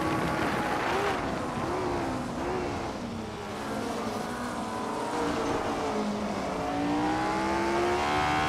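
Ferrari 158 race cars racing in a video game, a continuous whining engine drone that rises and falls in pitch as the cars accelerate and pass, moderately loud with faint background talk.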